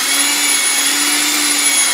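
An electric mixer whirs steadily through chocolate cupcake frosting, a loud, constant motor drone with a high whine and no pauses.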